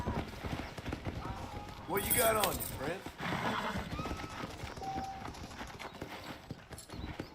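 Horse hooves clip-clop across the ground in Red Dead Redemption, mixed with a whinny and game effects, while someone talks over the steady trotting.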